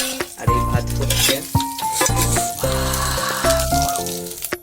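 Onion frying in a pan and being stirred, with a spoon clanking and scraping against metal in irregular bursts over a constant sizzle, loud and close.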